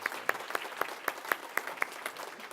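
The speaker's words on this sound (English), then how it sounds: "I think this is a good time for a round of applause" Sparse applause at an awards banquet, with individual sharp claps standing out in a regular rhythm over a quieter background of scattered clapping from a small audience.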